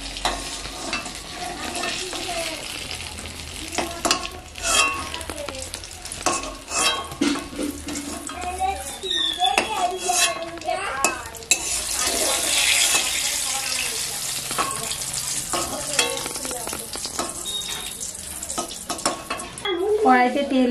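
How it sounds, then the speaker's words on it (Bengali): Brinjal (eggplant) pieces fry in oil in a pan, giving a continuous sizzle with frequent scraping and stirring clatter, and a burst of louder hiss partway through; no voice is heard. "বেগুনটা আমি অল্প অল্প করে ভেজে নিচ্ছি, অর্ধেক অর্ধেক করে।"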